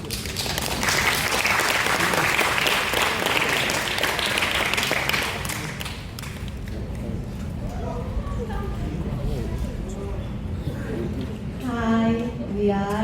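Warm applause from a school audience greets first-year student presenters, dense and loud for about six seconds before fading out as a voice begins talking.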